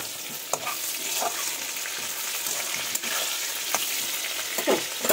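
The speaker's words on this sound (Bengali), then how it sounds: "আমি আলুও ভাজবো পটলও ভাজবো সুন্দর করে" Potatoes and pointed gourd fry in plenty of oil in a kadai, giving a steady close sizzle throughout with occasional stirring clacks and scrapes and no talk.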